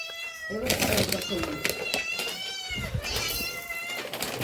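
A cat meows for food repeatedly and insistently, close by, in long drawn-out cries with brief pauses between them.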